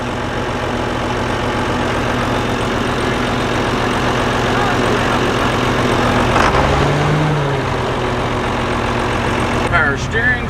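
An old abandoned Ford 700 tractor engine runs steadily at idle, a continuous low rumble with a brief louder surge partway through, while people talk over it.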